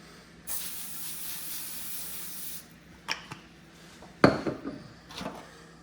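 A steady hiss of cooking spray for about two seconds, then a few clinks and knocks of kitchenware, close by.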